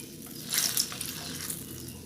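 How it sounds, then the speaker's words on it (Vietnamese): Tofu skin fries in very hot oil, giving a soft, steady sizzle and crackle heard close up, with a few brighter pops. "các bạn chiên cho nó vàng như thế này"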